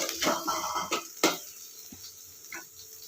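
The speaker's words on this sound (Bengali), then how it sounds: "তারপর দিলাম পেঁয়াজ বাটাটা, এবার একটু ভেজে নিলাম" Onion paste frying in a pan with garlic paste, starting with a busy close burst of stirring, scraping and spoon clatter, then thinning to a few scattered clinks over a soft sizzle. Nobody talks.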